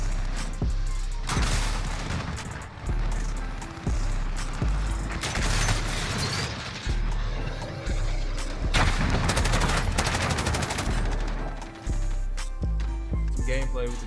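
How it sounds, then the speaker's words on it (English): Rapid bursts of LMG machine gun fire in the Modern Warfare video game, loud sustained automatic volleys with brief pauses and booming impacts, continuing nearly throughout. "Some gameplay with the new LMG."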